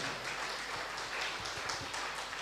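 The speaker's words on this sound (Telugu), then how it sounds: "గట్టిగా చప్పట్లు కొడదాం వారికి" A crowd at a meditation gathering on a riverbank claps in a steady, dense wash of applause, even and sustained throughout, with no talk over it.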